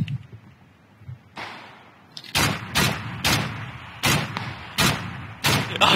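Gunfire in PlayerUnknown's Battlegrounds during a bridge battle: after a quiet stretch, a run of sharp loud shots cracks out at irregular intervals, close and punchy, with no talking over them.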